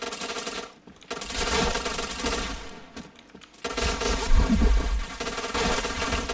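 Rapid automatic gunfire from the Point Blank shooter game, loud and dense with brief pauses between bursts, heard alone without talk.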